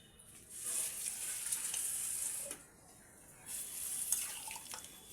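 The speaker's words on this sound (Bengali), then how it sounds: "একটু জল এবার অ্যাড করে দিচ্ছি" Water poured into a hot cooking pan sets off a loud hissing sizzle that rises, dips briefly and then surges again, with faint stirring clinks.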